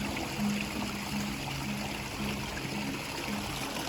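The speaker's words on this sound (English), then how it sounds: "For the deeper gurgling sounds, it's because water is hitting water in a little pool." A pondless garden waterfall sends water gurgling over rocks and dropping into a little pool, producing a constant close trickle and splash throughout.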